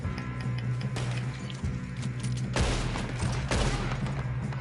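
Gunfire in the video game Red Dead Redemption 2 breaks out in a couple of sharp bursts over a steady low game hum, loud and close, with no talking.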